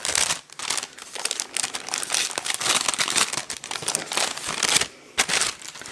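Close, busy crinkling and rustling of wrapping as an advent calendar gift package is torn open, with steady crackles broken by a brief pause near the end.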